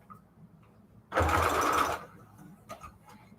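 A sewing machine stitches scrap fabric in one short, loud burst of about a second, near and alone against quiet room noise.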